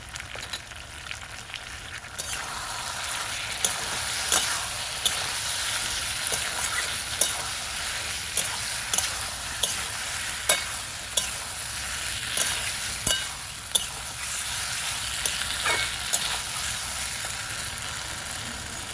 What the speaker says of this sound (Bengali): আলু বেগুন আমি এভাবেই কষিয়ে নেব ঝালের জন্য দিয়ে দেবো কাঁচা লঙ্কা চেরা